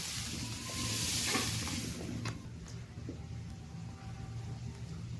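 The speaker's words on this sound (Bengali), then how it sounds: "লবণ হলুদ দিয়ে বেগুন, আলু আর পেঁপেটা বেশ ভালো করে ভেজে নিলাম" Eggplant, potato and papaya frying in oil with salt and turmeric in a pan, a steady close sizzle with occasional stirring scrapes, louder at first and then settling.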